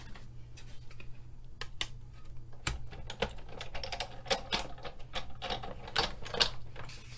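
A die-cutting machine presses Grapefruit Grove and Whisper White cardstock through framelit dies, producing irregular clicks, creaks and mechanical ticks that come close and fairly loud, with no voice over them.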